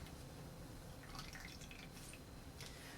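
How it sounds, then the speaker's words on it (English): Rich simple syrup trickles into a measuring jigger as a cocktail is built, a faint, steady liquid drip and pour at close range, quiet and continuous throughout. "I'm gonna use 10 milliliters of this rich simple syrup."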